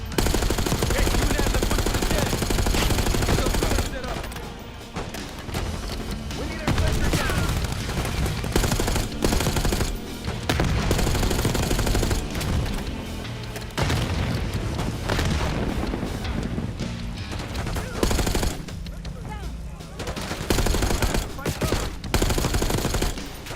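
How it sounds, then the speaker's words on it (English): Dense video game gunfire and explosions from Call of Duty Black Ops 6, sustained rattling automatic fire with heavy booms and short lulls, loud throughout. "Good, then we can shoot in all directions."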